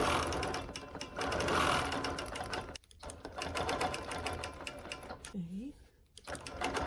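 A sewing machine stitches a webbing pattern on a quilt, a fast continuous mechanical whirr close by, pausing briefly twice, with a voice speaking softly underneath.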